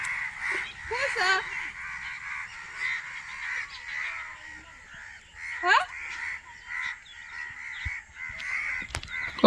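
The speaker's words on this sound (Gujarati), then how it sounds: "કાગડા ભેગા થયા છે ગાઈસ." A gathered flock of crows in Vadnagar caws repeatedly, the harsh calls overlapping at moderate distance while people talk nearby.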